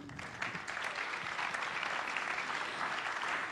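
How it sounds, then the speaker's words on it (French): Applause from a conference audience after a debate, a steady wash of clapping hands that holds its level for a few seconds. "Vous pouvez les applaudir quand même."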